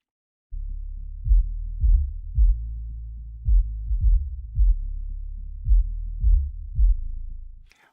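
Only the low end of a mix remains: kick drum thumps pulse in a steady rhythm over a sustained bass line, both squeezed by a multiband compressor acting on the bass band alone, deep and heavy with nothing above.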